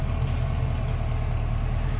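Deep, even idle rumble of a 350 V8 engine in a 1978 Chevrolet C10, low and throaty, running steadily up close with a slight pulsing rhythm.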